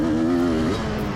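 A two-stroke motocross bike riding on a track, its engine holding a steady, buzzing drone with a brief rise and dip in pitch, fairly close and loud throughout a very short moment.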